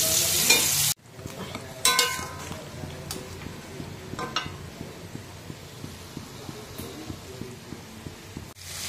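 Cumin and spice masala fried in oil with repeated scraping stirs of a spoon against the pan over a steady sizzle, opening with a loud burst before settling.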